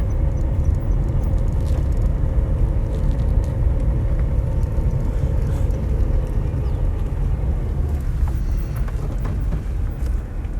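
A car driving on a gravel road near Lambert's Bay: steady low rumble of tyres and engine with constant wind noise, unbroken and fairly loud from inside the vehicle.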